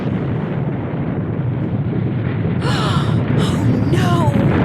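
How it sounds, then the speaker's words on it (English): A deep, continuous roar of an avalanche in the Nancy Drew game The White Wolf of Icicle Creek, loud and steady throughout, with sharp gasping and whooshing bursts layered on top toward the end. "Avalanche!"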